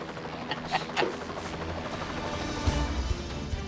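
A helicopter flies over remote Alaskan bush country with a steady low rotor drone and engine hum throughout, fairly loud and continuous, with a few brief clicks and knocks near the start.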